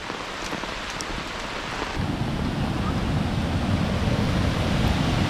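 Heavy rain pours during a flood along the Sesa River in Assam, a dense steady roar that swells louder after about two seconds, with no voices.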